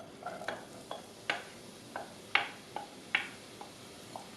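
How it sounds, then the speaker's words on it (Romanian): Chopped onion frying in hot oil in a pot, giving a faint, steady sizzle broken by soft, irregular ticks and pops spaced a second or so apart, with no voices. "Când acesta s-a încins, adăugăm ceapa."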